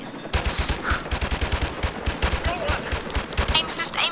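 Assault rifle fire in a Call of Duty Modern Warfare campaign battle, dense rapid bursts of loud close shots repeating steadily for several seconds amid combat noise.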